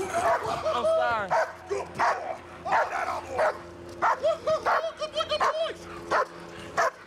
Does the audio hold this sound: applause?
no